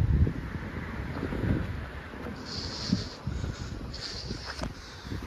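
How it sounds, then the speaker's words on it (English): Strong tropical storm wind buffeting the microphone outdoors, a continuous low rumbling roar with gusty swells and some higher whistling tones. "the wind is insane"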